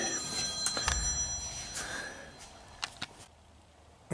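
A telephone rings in a workshop where an old truck cab is being stripped, with the bell tones coming faintly and intermittently over low background noise.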